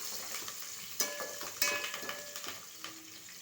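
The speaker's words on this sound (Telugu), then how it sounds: "ఉల్లిగడ్డ తొందరగా వేగుతుంది" Onions and green chillies frying in a pan for a Telangana chicken curry, a steady close sizzle with a few sharp stirring clinks and scrapes of a spoon against the pan.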